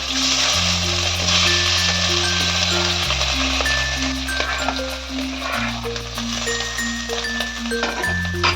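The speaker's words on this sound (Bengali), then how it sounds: "ভালো করে এটা নাড়াচাড়া করে নিচ্ছি জিরেটার সাথে জিরে ফোড়নের সাথে" Mashed winter vegetables fry in a pan over low flame with cumin seeds and asafoetida while being stirred, giving a steady close sizzle under a constant droning tone, with no talking.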